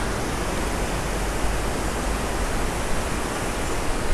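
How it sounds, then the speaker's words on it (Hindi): Flowing water rushes steadily beside a water-powered mill in a remote village in the Keran valley, Kupwara, a loud, dense, unbroken roar with no distinct beats and no voices. "यहाँ पे ये चक्की है, ये पानी पे चलती है"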